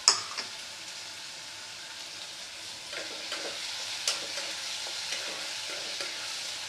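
Diced boiled potatoes fry with onions and tomatoes in a pan for ghugni, giving a steady close sizzle with occasional light stirring scrapes and ticks, no talking.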